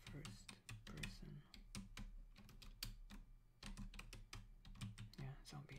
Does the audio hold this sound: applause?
no